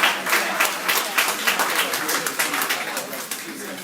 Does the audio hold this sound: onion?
no